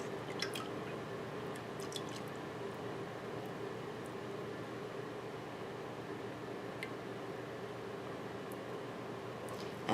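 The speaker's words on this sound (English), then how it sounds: "I'm going to just pour the lye down the stick blender" Lye water poured down a stick blender into soap-making oils gives a faint, steady liquid trickle with occasional small drips, quiet and close with no voices.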